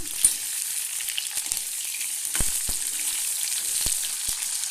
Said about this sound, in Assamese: অলপ ৰঙচুৱা হোৱাকৈ মই আলুখিনি ফ্ৰাই কৰি ল'ম